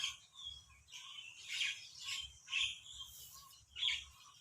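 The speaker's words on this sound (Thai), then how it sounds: "อันนี้เสียงนกจากธรรมชาตินะคะ" Wild birds chirp and tweet in repeated bursts, some calls close and bright, others farther off, with no talking.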